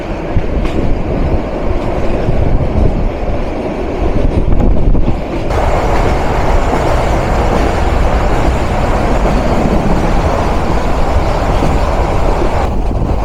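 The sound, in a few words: train passing through Tejgaon railway station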